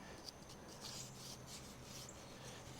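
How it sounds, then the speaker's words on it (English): A small brass brush scrubs at rust on a 1980 Honda CT110 motorcycle, giving a faint, steady rasping rub that continues without pause for a few seconds, with no voices. "I'm just going to use this little brass brush to see if I can agitate some of this rust"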